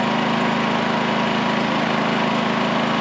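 Firman 3200W dual fuel inverter generator running during break-in, a steady, loud, close engine drone with a constant hum and even tone, unchanging throughout with no voices.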